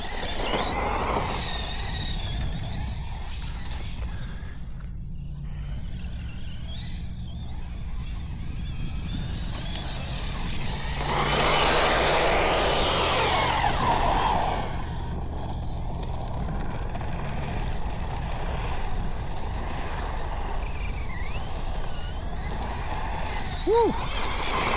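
A Losi Super Lasernut RC truck churns across beach sand, its motor whining and rising in bursts, loudest in the middle stretch, with mechanical rattles throughout.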